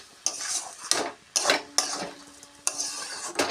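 Chopped greens with rice flour and coriander leaves are stirred in a pan, several sharp scraping strokes of a utensil against the metal in an uneven rhythm, close and alone.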